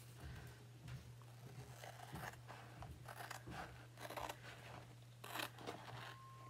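Scissors snipping a sunflower piece off a chalk couture sign design, a series of close crisp cuts and paper rustles over a low steady hum.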